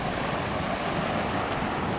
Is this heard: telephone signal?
no